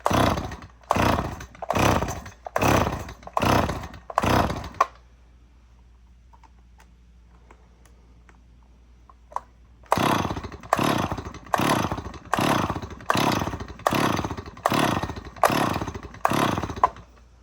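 A Stihl 026 chainsaw runs at half choke, its engine surging in a rapid, regular rhythm of loud revving pulses, then dropping to a quiet idle for several seconds before the pulsing bursts resume just as strongly.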